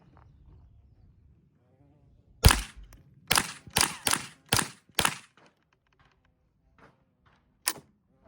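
Shots from a Rossi RS22 .22LR rifle, six sharp cracks in a quick uneven string after a quiet pause, then one more isolated shot later, with faint low voices in the background.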